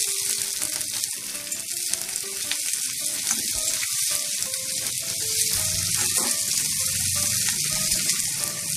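Chopped onion, green chillies and garlic sizzle in hot oil in a pan, a steady bright crackling fry that continues throughout, with occasional stirring.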